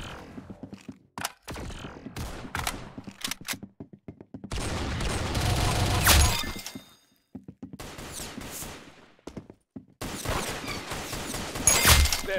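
Gunfire in a shooting scene: bursts of sharp, loud shots in quick clusters separated by short pauses, some with a rumbling tail, close and dominant.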